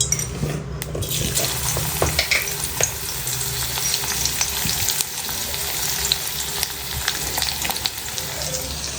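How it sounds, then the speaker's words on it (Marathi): Fenugreek leaf curry (methi bhaji) fries in oil in a home kitchen, a steady close sizzle with occasional clinks of a utensil against the pan and faint kitchen clatter throughout. "इथे मी मेथीची भाजी बनवते साईड बाय साईड"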